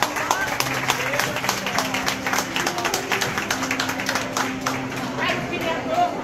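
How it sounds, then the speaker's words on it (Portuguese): Audience applause at a literary academy anniversary celebration honouring the ANCOR association, a steady patter of many hands clapping throughout, with voices in the room mixed in. "Uma salva de palmas para a ANCOR."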